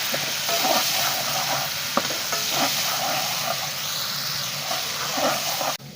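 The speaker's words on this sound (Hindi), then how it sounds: "इसके अंदर हम ये डालेंगे और इसको फ्राई करेंगे" Steady sizzling and crackling of garlic frying in a hot pan, with occasional stirring clicks throughout.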